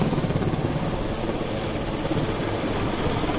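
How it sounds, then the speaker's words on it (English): A helicopter beats loudly overhead during a naval exercise off Visakhapatnam, inserting a team of marine commandos, a steady throbbing rotor drone with no talk over it. "helicopter as they insert a team of marine commandos"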